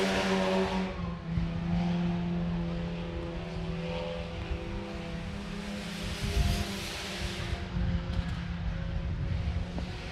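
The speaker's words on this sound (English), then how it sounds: "White flag, one more lap to go for Ryan Murphy." Sport compact race cars lapping a dirt speedway at Sherman County Speedway, with a loud, sustained engine drone that rises and fades as the field passes, holding steady throughout with no voices.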